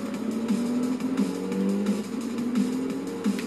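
A car engine in Forza Motorsport 3 pulls away in first gear, a steady droning hum whose pitch shifts only slightly as it strains forward, moderately loud and alone.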